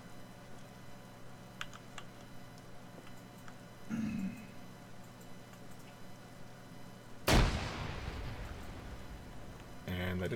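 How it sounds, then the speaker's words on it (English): A grenade goes off inside a tent in a military shooter game, one sharp, loud broadband blast followed by a decaying rumble, with quieter background game noise around it. "I'm gonna grenade it."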